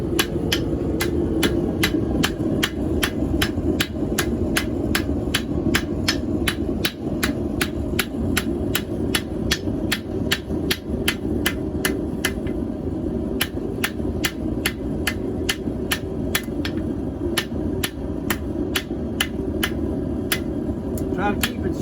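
Hammer blows on quarter-inch square bar (key stock) while forging a cooking hook, a steady, loud rhythm of roughly two sharp ringing strikes per second repeating throughout over a constant low background rumble.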